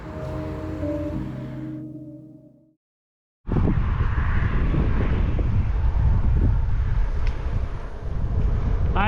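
Wind rushes loudly across the microphone while cycling toward a lake on a cold day, a steady roaring buffet after music fades and a brief silent gap.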